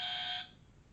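A talent-show buzzer from France's Incroyable Talent gives one loud, bright, tonal blast lasting under half a second, then cuts off into quiet room noise.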